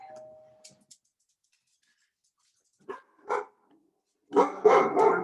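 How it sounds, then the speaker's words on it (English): A dog barks in short bursts: a few sharp, separated barks, then a louder run of deep barks close by, with near silence between. "He sounds like a mean dog, but he's pretty sweet."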